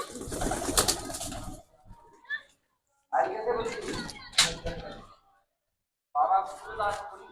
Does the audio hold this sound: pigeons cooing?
yes